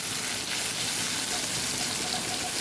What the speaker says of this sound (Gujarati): જે પાણી ઉમેરેલું છે એ બધું બળી જાય ત્યાં સુધી મસાલાને સરસ પકાવી લેવાનું છે.